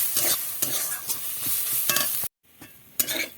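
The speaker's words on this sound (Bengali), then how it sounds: "এইভাবে নেড়ে নেড়ে শুকনো করে নিতে হবে" Banana flower paste being dried in a pan over low heat is stirred repeatedly, the spoon scraping and rasping in uneven strokes over a faint sizzle, with a brief silent gap partway through.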